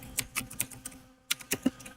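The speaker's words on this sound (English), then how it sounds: "What are you typing?" Computer keyboard typing: quick, irregular bursts of crisp key clicks, close and fairly loud, broken by a short pause before a second flurry.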